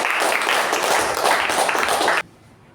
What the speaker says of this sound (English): With a thunderous round of applause, please help me welcome DTM Sudheesh